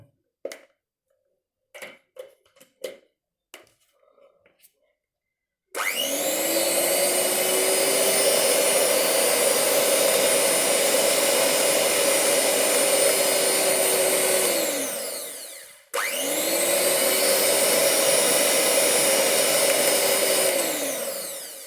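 A Holmer HHM-14 hand mixer with seven speeds starts after a few light clicks, then runs with a loud, steady whine, briefly stops around the sixteenth second, and starts up again.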